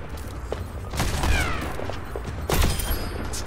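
Video game gunfire crackles in bursts, a rattling volley then another burst with booming low thuds over a constant game background, fairly close and without talking.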